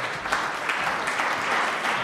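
An audience applauds at a French conference on state building renovation as a guest is introduced, giving a continuous even wash of clapping with no talk.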